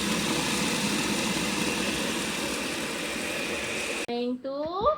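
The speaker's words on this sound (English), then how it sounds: "we need to blend, grind the peanuts." Blender grinding peanuts for peanut sauce, a loud, close, continuous motor roar that stops abruptly near the end and is followed by a voice.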